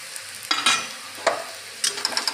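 Raw ground peanut powder roasts in oil, with a light frying hiss broken by a few sharp stirring scrapes and clatters close by.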